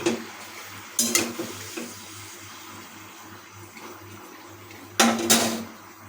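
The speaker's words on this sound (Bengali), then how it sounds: "তাই এটাকে খুঁজতে কিছুক্ষণ নাড়িয়ে নেব" Sanchi leaves and lau stalks are stirred in a kadai, with two separate bursts of clattering and scraping about four seconds apart over a low steady hum.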